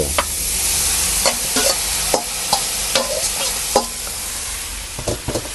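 Pork stir-fried with herbs in a pan for shrimp baked with glass noodles: steady close sizzling broken by repeated scraping strokes of a spatula, with no talking.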